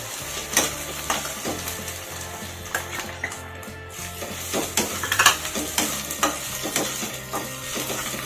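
Coriander seeds and asafoetida roast in a pan for vada pav, with a steady sizzle under repeated scraping and stirring of a spoon against the metal pan, close and fairly loud.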